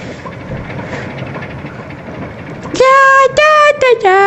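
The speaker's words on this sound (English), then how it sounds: "Let's just wait for the train." A passing train with a loud horn, sounding as a sustained tone in several long blasts near the end, after a stretch of broad rumbling noise.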